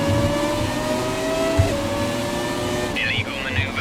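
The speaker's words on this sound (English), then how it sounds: "the only way you're really knowing when to change gear is purely from the sound of the engine" An F1 race car engine from the F1 2017 video game holds a loud, sustained whine, with the pitch steady and then shifting as the gears change. A voice talks over it near the end.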